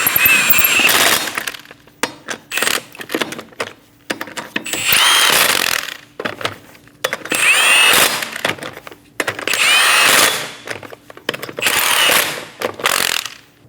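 A power tool drives wheel lug nuts on a 2008-2015 Scion xB during a front strut replacement, running in five or six loud, close bursts of whirring and ratcheting with short pauses in between.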